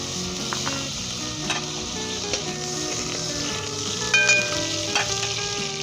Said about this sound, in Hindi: इसके अंदर हम देसी घी डालेंगे 2 टेबल स्पून।